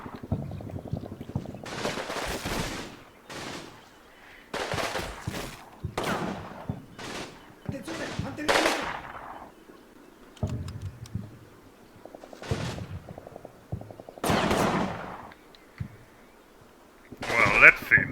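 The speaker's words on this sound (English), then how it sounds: "They are shooting back now." Machine gun and rifle fire in the wartime game Combat Mission, heard as repeated loud bursts of rattling shots with short gaps between volleys, some sharp single cracks, and a quieter background rumble.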